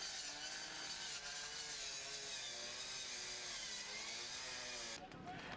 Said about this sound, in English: Next, they try a chainsaw to get inside.